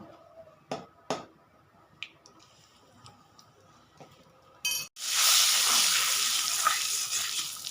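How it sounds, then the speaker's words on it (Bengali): Shrimp dropped into hot oil seasoned with turmeric and salt, a few clinks and drips first, then a sudden loud, steady sizzle that fills the rest of the clip, close and without talk. "এবার এই তেলের মধ্যে আমি দিয়ে দেবো অল্প একটু হলুদ আর লবণ দিয়ে চিংড়ি মাছগুলো ভেজে নেব"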